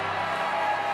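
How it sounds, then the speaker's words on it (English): A crowd at the CES MMA 82 fight event roars and cheers for hometown favorite Dante Delbonis of Cranston, Rhode Island, a dense, steady wall of noise that holds at a constant level. "And you hear that roar from the crowd for the hometown favorite, Dante Delbonis"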